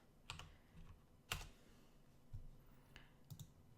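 Typing on a computer keyboard, sparse clusters of quiet key clicks spaced across a few seconds, close and alone with no voices.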